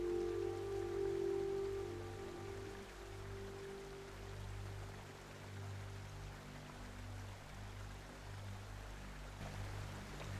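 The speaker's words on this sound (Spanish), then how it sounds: "Esta cascada está formada por las aguas cristalinas del río San Dimas" Salto del Tigre waterfall on the San Dimas river gives a steady, soft wash of falling water with a low continuous rumble, fairly faint and even throughout, with no voices.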